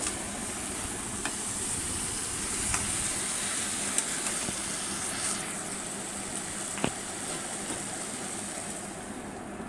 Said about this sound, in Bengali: এখন এটা কষতে থাকুক